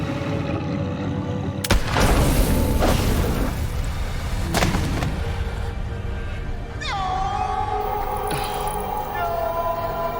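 Gunshot from a firearm in the video game The Quarry: a sharp, loud blast bursts out early, a second heavy boom follows a few seconds later, and a high whining tone trails over a rumbling game soundscape.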